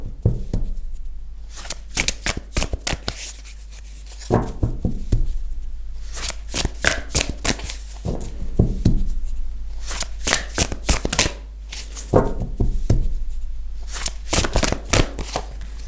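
Tarot cards are shuffled close up in repeated quick riffling bursts separated by short pauses, with no talking.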